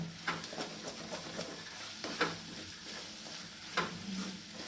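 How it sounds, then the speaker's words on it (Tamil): Tomatoes sauté on low heat in a pan, giving a steady close sizzle with a few brief stirring clinks and scrapes spaced apart. "தக்காளி நல்லா வதங்கட்டும்"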